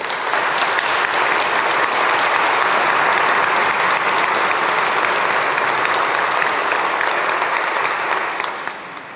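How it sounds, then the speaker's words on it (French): Sustained, even applause from a church congregation honoring jubilee priests, a dense crowd of clapping that holds steady for several seconds before tapering off at the close. "Vous pouvez les applaudir."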